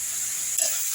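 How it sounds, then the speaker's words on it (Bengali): Ground spices fry in a pan with beetroot, potato and peas, giving a steady loud sizzle with a brief stirring scrape partway through, and no talk over it. "ভালো করে মশলাটা বিট আর আলু মটরশুঁটির সঙ্গে ভাজা ভাজা করে নিচ্ছি।"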